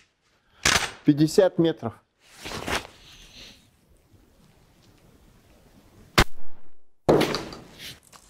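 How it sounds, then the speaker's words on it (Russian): A Benelli Comfort shotgun with a Briley Oxide XF choke fires 40 g Glavpatron buckshot in a wad container, giving one sharp outdoor report near the end after someone speaks in Russian. "Ну а мы делаем завершающий выстрел этого сет-отстрела."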